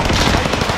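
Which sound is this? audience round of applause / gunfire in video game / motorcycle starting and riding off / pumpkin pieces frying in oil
gunfire in video game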